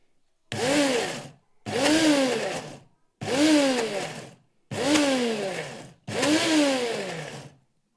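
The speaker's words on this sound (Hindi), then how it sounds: "और दोबारा से इसी तरह हमने इसको जो है ना पीसना है" An electric blender grinds milk into whipping cream in five bursts of roughly a second each, the motor whining up and settling with short silent gaps between runs, close and loud with no talking.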